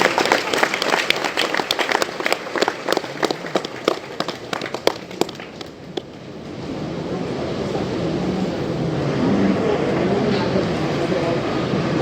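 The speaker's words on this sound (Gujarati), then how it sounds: "તો તે બદલ આપણે સૌ બાળકોને જોરદાર તાળીઓના ગડગડાટથી વધાવી લઈએ." An audience claps loudly for children at a children's day gathering, dense applause for about six seconds before it fades into a broad, steady crowd rumble.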